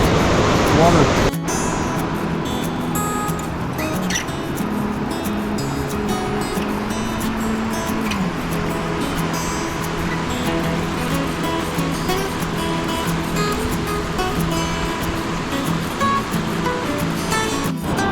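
Cranberry River current flowing steadily in Monongahela National Forest, a continuous broadband rush of moving water that holds at an even level throughout, with a low hum of other background noise beneath it.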